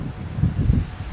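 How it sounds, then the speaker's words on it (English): Wind blowing along a street in the Davenport area of Toronto, a steady low rumbling buffet of gusts across the microphone for about a second, with no voices. "Why is Davenport so windy these days?"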